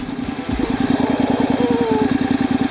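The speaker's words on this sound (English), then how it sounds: "Yes, the engine is running," A Honda DCT motorcycle engine idles close by with a steady, rapid low thumping pulse, while the rear wheel turns. A brief clunk comes near the start, and no one talks.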